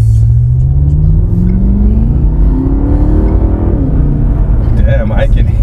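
A BMW F10 M5 fitted with a cold air intake accelerates in traffic, its engine droning loud and close as the pitch climbs steadily through the gear, then drops with a shift near the end.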